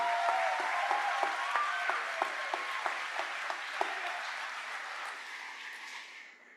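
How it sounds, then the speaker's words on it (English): Graduates in a large hall at a high school graduation ceremony give a round of applause for their families, a sustained wash of crowd clapping that stays steady and slowly fades out toward the end. "Please recognize your family by a round of applause."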